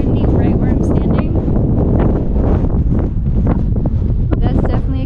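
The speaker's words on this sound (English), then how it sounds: "It is quite windy right where I'm standing" Strong wind roaring against the microphone on an open hillside road, a loud, constant blustery rush with buffeting gusts and someone talking beneath it.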